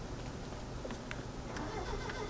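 A boat engine starts up in the video game Tomb Raider (2013), a low, steady mechanical rumble with faint clatter on top, heard briefly and at moderate distance.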